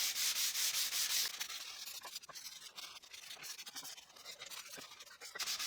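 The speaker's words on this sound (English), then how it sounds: "I will sand all the parts manually now, starting with 180 grit sandpaper" Wooden parts being hand-sanded with 180 grit sandpaper: a steady, close rasping rub with a loud opening burst, then quieter back-and-forth scratchy strokes that swell again at the end, with no voices.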